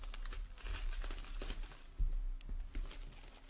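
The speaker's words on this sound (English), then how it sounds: "I gotta take the plastic off." Plastic wrapping peeled and pulled off a fan mail package, giving a steady close-up crinkling and crackling with a few sharper tearing bursts.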